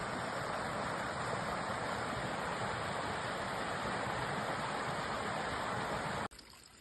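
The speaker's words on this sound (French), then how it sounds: "Vous pourriez apprécier l'eau qui coule." River water flows steadily past a forested riverbank in Puy-de-Dôme, France, a continuous broadband rush with no pauses that cuts off abruptly just before the end.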